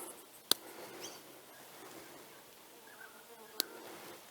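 A faint, steady buzzing of honeybees in the open air on a summer day, with two sharp clicks standing out.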